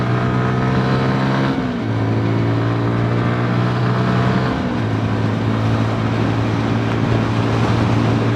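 A 2022 MASH X-ride 125 motorcycle engine drones loudly at high revs in sixth gear at around 50 mph, a steady buzzing hum with two brief dips where the pitch drops and then settles again.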